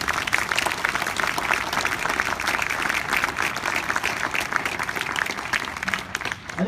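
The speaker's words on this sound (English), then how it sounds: "So give another round of applause to Rob Singer." A concert audience of the US Marine Band gives a conductor a steady round of applause, with dense, even clapping throughout that tapers slightly at the end.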